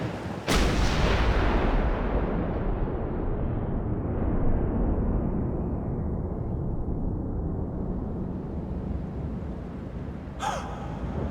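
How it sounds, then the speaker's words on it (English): Gunfire in the Max Payne 2 game: one sharp, loud blast opens into a long rumbling roar that slowly fades, and a second short burst cuts through near the end. "Gunfire!"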